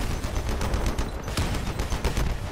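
Rapid gunfire from vehicle-mounted weapons in the Crossout combat game, a dense continuous clatter of shots layered over rumbling engine noise with no pause.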